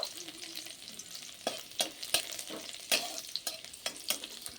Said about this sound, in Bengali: দিয়ে দিলাম রসুন কুচিটা, আমি ভালো করে একটু নাড়িয়ে নেব।